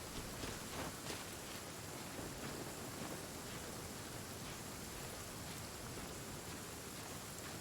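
Rain falls in the video game Genshin Impact, a steady, even downpour hiss with faint scattered drop patter, heard alone without talk.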